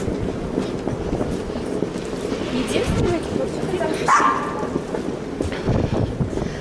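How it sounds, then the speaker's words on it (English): Dogs barking, some small and some large, on a busy shopping street near a beach, with a puppy among them; the barks come intermittently through street noise, a passing rumble and nearby talk. "Quite a few dogs around. Some small, some big."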